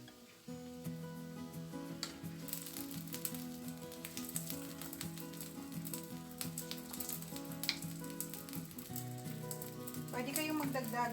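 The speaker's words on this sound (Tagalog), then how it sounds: "pwede na natin idagdag yung ating cornstarch na dinissolve sa water" Fish escabeche sauce simmers and bubbles quietly in a pan as dissolved cornstarch is stirred in, a soft continuous sizzle under background music.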